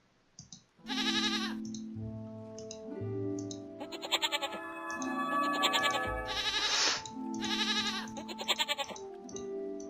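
A goat in the puzzle game Rusty Lake Paradise gives a series of loud, wavering bleats over a droning musical background, with soft clicking between the calls.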